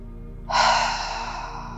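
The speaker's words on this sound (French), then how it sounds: "expirez profondément" A deep exhale during guided yoga nidra breathing, a long breathy rush that begins suddenly, peaks, then slowly tapers while staying audible to the end, heard alone and close.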